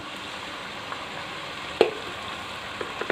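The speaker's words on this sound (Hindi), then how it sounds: "अब चिकन को फ्राई करेंगे हम प्याज के साथ" Chicken frying with onions gives a soft, steady sizzle in the pan, with a single sharp clink of a utensil and a few faint taps near the end.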